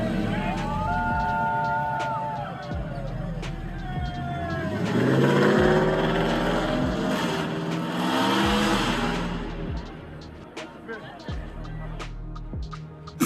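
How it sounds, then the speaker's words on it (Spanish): The car of NBA player Mitchell Robinson revs its engine in a loud, rising surge that swells and falls over several seconds, while people talk over it. "ese es el coche de Mitchell Robinson"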